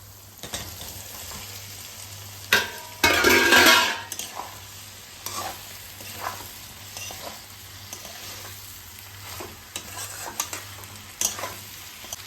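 Jackfruit and potato pieces stir-fried in a spice paste for a spicy echor dish, a loud burst of sizzling as they go in, then softer scraping stirs and a steady quiet fry.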